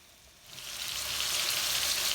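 Hamburger steak patties sizzle in a frying pan, a bright, steady crackling hiss that swells and then holds loud and close.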